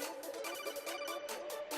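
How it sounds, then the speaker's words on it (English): A phone rings somewhere far off in a room, a soft repeating electronic trill in quick regular pulses for under two seconds, faint and alone. "phone going off in the distance"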